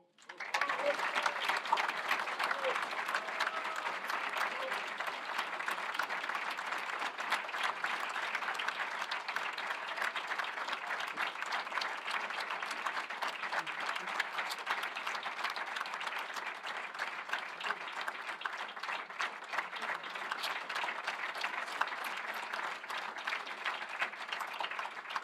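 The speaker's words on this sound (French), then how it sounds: "Vous pouvez applaudir encore une fois." An audience at a French award ceremony for a National Order of Merit knight claps steadily, a dense, even wash of applause that starts abruptly and continues for about twenty-five seconds.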